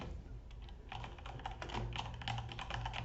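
Someone types on a computer keyboard with quick, soft, close key taps in an uneven stream that thickens toward the end, heard faintly with no talking.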